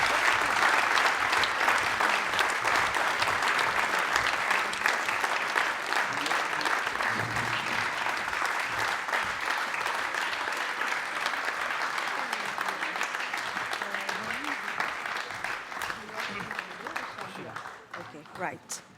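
Sustained applause from a concert audience greeting the under-12 finalists of a Mozart performance competition, dense and steady clapping that slowly thins toward the end.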